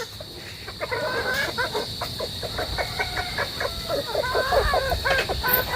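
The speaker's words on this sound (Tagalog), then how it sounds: "Yan, ating mga barako. Pakainin din natin para malakas silang mambarako." Roosters being fed on a farm cluck and call nearby in a busy, continuous flock chatter, with a steady high-pitched hum running underneath.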